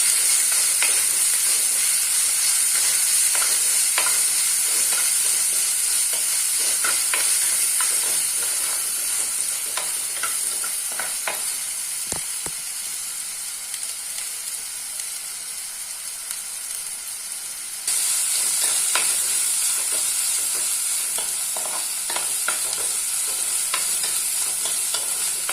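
Crushed shallots and slit green chillies sauté in a pan with a steady, loud sizzle and hiss, broken by scattered stirring clicks and scrapes that continue throughout with no talk.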